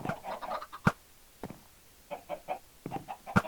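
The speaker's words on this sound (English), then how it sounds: "So you're supposed to then shoot those chickens." Chickens cluck in a Minecraft-style video game, with short, irregular bursts of clucks spread over a few seconds, fairly close and with no voices.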